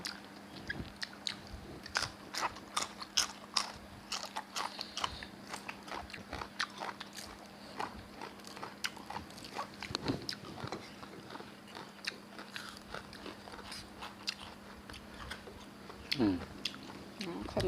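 Close-up crunchy biting and chewing of spicy Thai instant noodle salad with boiled egg, with repeated crisp bites throughout, a low steady hum underneath and occasional background sounds.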